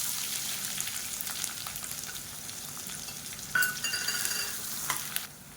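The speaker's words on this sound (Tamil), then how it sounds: "பொரியவும் ஒரு கப் அளவுக்கு பொடியாக நறுக்குனா பெரிய வெங்காயம் சேர்த்துக்கலாம்." Chopped large onions fry in a pan of oil with cumin and curry leaves for an egg masala, giving a steady soft sizzle with brief stirring scrapes near the end.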